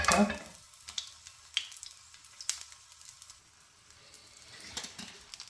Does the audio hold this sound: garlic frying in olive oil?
yes